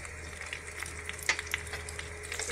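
Pasta being stirred in a hot pan with oregano seasoning for cheesy pasta, giving a soft steady sizzle with a few light scraping clicks from the stirring, close up and fairly quiet.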